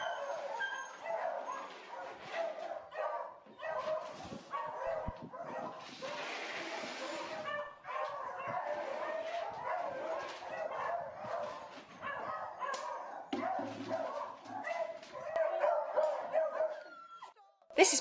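A pack of working beagle hounds yips, barks and whimpers continuously at feeding time around communal troughs, a busy overlapping chorus of excited dog voices.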